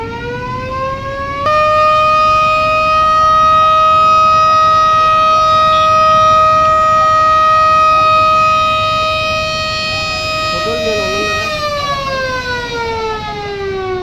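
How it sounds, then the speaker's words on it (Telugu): Air raid warning siren for a civil defense mock drill: a loud, steady harmonic tone rises at the start, holds level for about ten seconds, then slides down, with no voices. "ఒక సైరన్ వినబడుతుంది"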